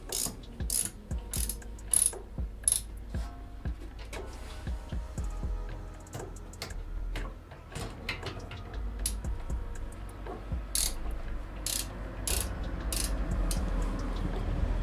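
A ratchet with a 13 socket tightens the rear brake screws on an Audi A6 C5, its pawl clicking in quick, close bursts separated by short pauses, with occasional metallic clanks.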